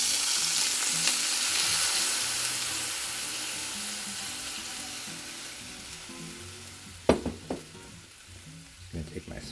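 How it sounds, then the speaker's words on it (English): Red wine poured into a hot pan where a chuck roast was seared, hissing and sizzling steadily up close, with a few sharper scraping clatters near the end. "I'm going to use my red wine to get those up off of the bottom of the pan."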